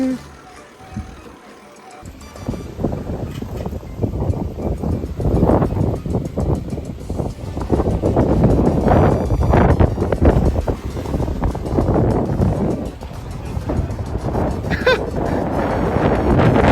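Strong wind buffets the microphone on an island near Matsuyama, rising into loud, gusty low roaring bursts that stay heavy and continuous after a brief quieter opening.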